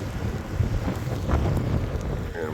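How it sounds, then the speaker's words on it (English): Gusty wind in the hills of Hemet rumbles against the microphone, a steady low roar rising and falling in short bursts. "It's getting windy."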